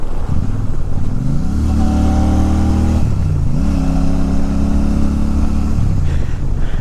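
A vehicle engine drones loudly and continuously while driving through a tunnel, its booming hum shifting pitch up and down as it echoes.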